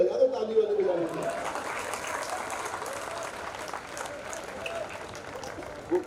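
Audience applause rises and continues at a Hindi comedy poetry gathering, a steady patter of many hands with a voice heard briefly at the start.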